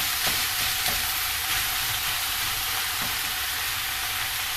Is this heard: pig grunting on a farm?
no